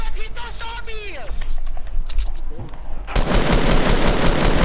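Gunfire hitting the player in Fortnite Battle Royale, a sudden dense burst of loud rapid shots that takes over the last stretch, after someone talks excitedly over game noise.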